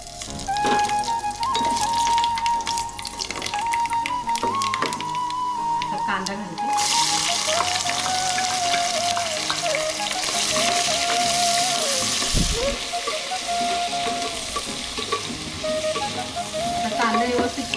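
Onions and whole spices frying in oil for chicken dum biryani, a steady loud sizzle running throughout with occasional stirring scrapes, while a person talks over it.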